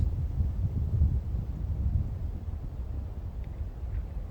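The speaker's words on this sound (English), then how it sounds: "Oh, the wind will be nice." Wind buffets the microphone outdoors at a shooting range, a continuous low rumbling roar that swells slightly in the first seconds and then eases a little, with no voices or shots.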